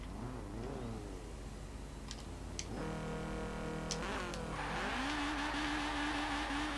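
A Hillman Imp widebody car in Forza Horizon 4 launches from a standstill in second gear, its engine revving loudly and climbing in pitch as it accelerates, close and continuous with no talk.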